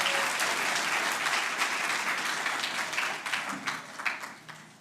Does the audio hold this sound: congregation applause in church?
yes